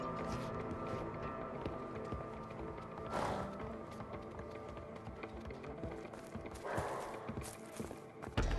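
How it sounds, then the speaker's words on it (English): Horse hooves clip-clopping in the video game A Way Out as horses are released from a stable, a steady rhythmic trot of several animals at moderate distance over a busy ambient game backdrop. "Now we just need to let the horses out."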